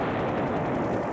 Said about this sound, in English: this offshore rig explosion in the North Sea that claimed 168 lives